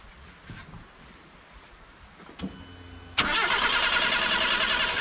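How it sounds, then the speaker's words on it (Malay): A Proton Wira engine cranks but won't catch, a hot-engine stalling fault: quiet ambience with insects, then an abrupt loud starter whirr that keeps grinding steadily to the end without firing. "Oke, start. Kita tengok dia boleh hidup atau tidak."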